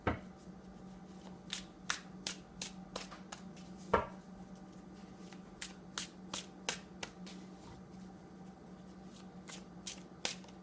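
Tarot cards shuffled and drawn by hand in a quiet room, a steady series of sharp, close card snaps and flicks spread across the stretch over a low background hum, with no talking.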